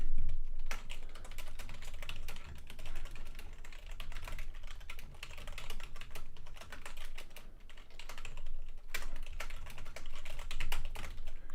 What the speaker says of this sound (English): I don't even have a mechanical keyboard, but I have an old loud keyboard